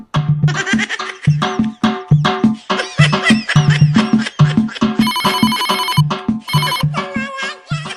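A mobile phone ringtone plays loudly and continuously, a repeating melodic pattern of bright electronic tones with short bursts of higher chiming notes, heard alone without talk.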